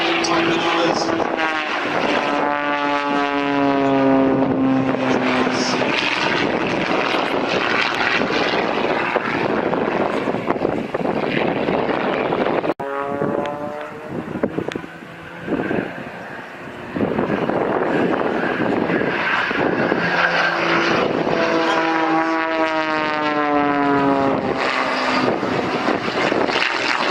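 Propeller aircraft flying aerobatic manoeuvres at the Shuttleworth Race Day airshow, its engine rising and falling loudly in pitch as it passes and turns, with a brief dip midway and a steady roar throughout.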